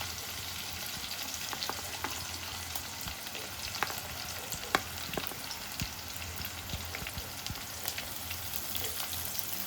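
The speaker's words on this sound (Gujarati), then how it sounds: "હવે આ ડુંગળી બરાબર શેકાઈ ગઈ છે, ડુંગળી, મરચાં અને લસણ" Onion, garlic and green chillies frying in a pan for stuffed okra curry, a dense crackling sizzle throughout with scattered spatula taps, moderately quiet and steady, no talking.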